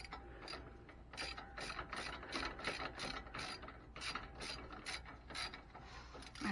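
A ratchet loosens the 15 mm sway bar bushing bolts on a 2008 Mustang, making a quick, even run of close metallic clicks over a low background hum.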